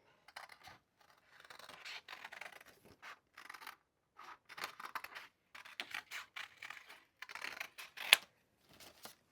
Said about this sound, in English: Do a little fussy cutting.